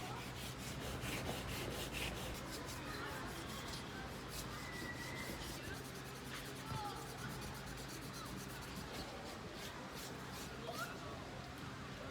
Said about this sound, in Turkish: 2000'lik zımpara kağıtları kullanarak yüzeyi kusursuz bir hale getirebiliriz